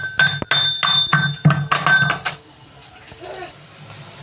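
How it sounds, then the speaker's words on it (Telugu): Raw garlic pounded in a kitchen mortar for an egg and amaranth greens dish, a quick series of sharp metallic thuds and clinks for about two seconds, then quieter handling sounds. "అలాగే మనము కొన్ని వెల్లుల్లిని మనం పచ్చగా దంచుకుందామండి."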